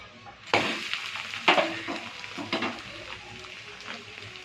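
Egg dosa fries in oil on a pan, a soft sizzle under several sharp scraping clatters of a spatula against the pan, spaced about a second apart, close and unaccompanied by talk.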